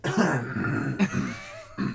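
A few short harsh coughs close by, rough and throaty, with brief pauses between bursts.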